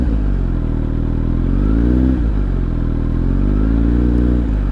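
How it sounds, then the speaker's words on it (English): A motorcycle engine idles loudly up close, its pitch rising and falling as the throttle is blipped in two gentle revs. "the amount of throttle needed to get your motorcycle to start revving up"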